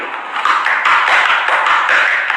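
Rapid rhythmic slapping of bare buttocks clapping together, a steady run of bright smacks played close and fairly loud with no talking.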